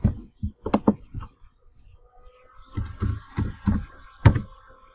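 Computer keyboard typing and clicking while copying a list, heard as short clustered bursts of key taps and thunks, fairly close and alone with no talk.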